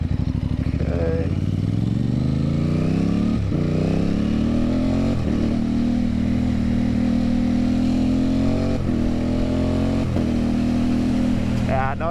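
Aprilia Tuono motorcycle with 16/45 lightweight sprockets and a quick shifter on street roads, its loud engine climbing in pitch through repeated quick upshifts with brief dips between gears, close and continuous, with wind roar throughout.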